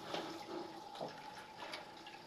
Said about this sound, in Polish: Tam widać, no, dosyć żwawo wypływa woda stamtąd.